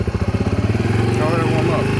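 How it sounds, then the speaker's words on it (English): A motorcycle engine with the choke on catches and settles into a fast, high idle, a loud close pulsing chug throughout. "The choke's already on, so just start. It's gonna idle really high."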